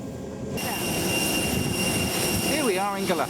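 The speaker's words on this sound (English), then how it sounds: "here is our plane that will take us off to the Galapagos" A passenger airplane's jet engines roar loud and steady as it takes off from Guayaquil bound for the Galapagos, the drone swelling with a rising whine near the end.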